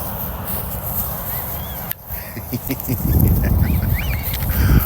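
Ducks or similar waterfowl call outdoors in a Florida winter setting, scattered quacks and honks rising over wind and background noise, growing busier and louder toward the end.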